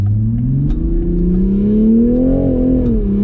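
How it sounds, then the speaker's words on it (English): A Toyota Supra engine accelerates as the throttle is pressed, a loud, close, smooth growl whose pitch climbs steadily and then eases slightly, with no talk. "you can tell when I step on the gas a little bit here, you'll see it"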